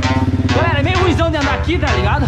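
A small motorcycle rides through a sewer tunnel, its engine droning steadily and close throughout while someone talks over it.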